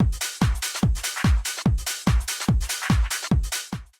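Dry, unprocessed speed garage drum loop: booming kicks on a steady pulse with bright hi-hats and snare hits filling the gaps, no voices.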